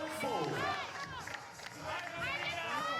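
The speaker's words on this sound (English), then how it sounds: "You see the Romanian women cheering on the men's team." Women in the crowd cheer and shout at a men's 3x3 basketball game at the 2015 European Games in Baku, a lively chorus of voices mixed with crowd noise and speech.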